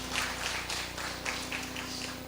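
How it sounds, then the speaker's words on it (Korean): A church congregation claps in a steady, even rhythm during a Sunday service, with quick crisp beats that fill the room with nothing else heard. "박수 한번 쳐줘봐요."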